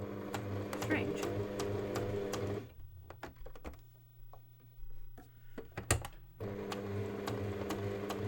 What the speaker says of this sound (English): It's a Brother XN1700, which is the it was a special edition one